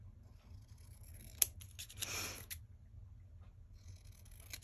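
Scissors cutting paper for a craft notebook tag, giving a sharp snip followed by a longer rasping cut, close and quiet against faint room noise.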